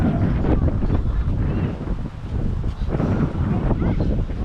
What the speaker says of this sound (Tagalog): Ang hangin po. Ang hangin.